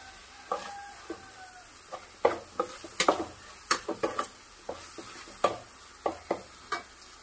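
Tomatoes with spices being stirred in a pan for an Odia potala paneer curry, a spoon clicking and scraping in a steady irregular rhythm over a soft sizzle, close and fairly quiet.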